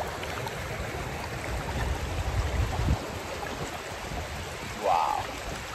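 A mountain stream in Norway gives off a steady rush of flowing water at close range throughout, joined briefly by a short tonal chirp near the end.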